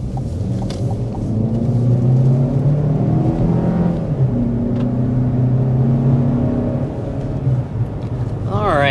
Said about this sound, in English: we want to go ahead and start with a hard acceleration